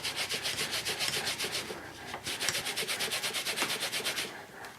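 A rubber stamp being scrubbed with Hero Arts Ultra Clean stamp cleaner gives steady, rhythmic back-and-forth rubbing strokes, close and continuous with a brief pause midway.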